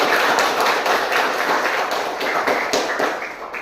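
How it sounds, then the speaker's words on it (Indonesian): Students in a school classroom clap their hands together in a dense, steady patter of many claps, fairly loud and close throughout, with no talking over it. "Tepuk tangan untuk kita semua"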